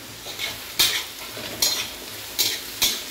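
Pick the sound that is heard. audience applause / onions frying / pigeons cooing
onions frying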